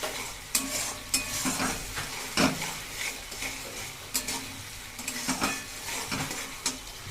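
Ground ginger, cumin and green chili paste with whole spices is sautéed in a pan, a spoon scraping and clinking against the metal in irregular strokes over a soft, steady sizzle, close by with no voices.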